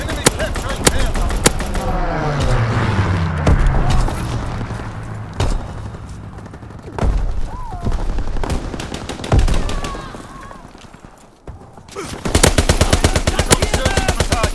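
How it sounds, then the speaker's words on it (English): Strafing-run gunfire in a Call of Duty WWII domination match: bursts of rapid machine-gun fire and scattered gunshots crackle over a constant battle rumble, with a loud sustained volley near the end. "Strafing run inbound."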